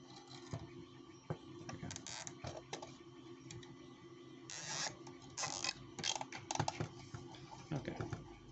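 A film strip is fed through a Polaroid 110 camera fitted with a conversion kit, making quiet irregular clicks, ratcheting and mechanical rattles close by, with a few louder bursts partway through.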